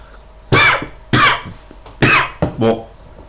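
A man coughs after vaping an 8 mg e-liquid, four sharp, close bursts in quick succession, the last a double, with no talking.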